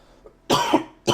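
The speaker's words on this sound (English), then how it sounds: "Sorry for the cough, guys." A person coughs up close, a faint throat sound followed by a loud double cough and then another sharp cough, with no talking.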